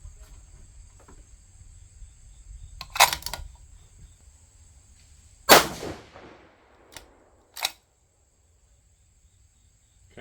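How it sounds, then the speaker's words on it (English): A 6mm GT rifle loaded with 33.2 grains of powder under Berger 105 Hybrid bullets fires a three-shot group: three sharp, separate reports a couple of seconds apart, each trailing a short echo, over a quiet outdoor background with faint insect chirping. "we're going to go ahead and shoot our first 3-shot group"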